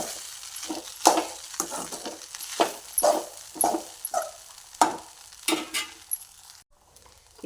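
Idli upma, crumbled idli with grated coconut, stirred and mixed in a frying pan, giving a steady run of scraping, clinking spatula strokes about once a second over a faint background sizzle, close and with no talking.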